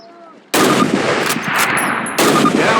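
Gunfire from a Call of Duty training range, a pair of loud sharp rifle shots with echoing tails after a quiet start, over a game background.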